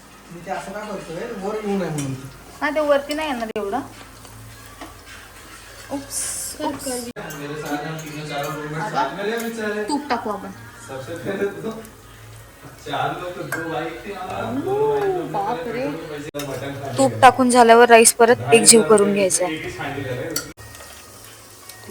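Ghee-coated white rice and bhurji are stirred together in a pan, with scraping and light clinks of a spoon against metal alongside a soft sizzle, heard beneath continuous talking.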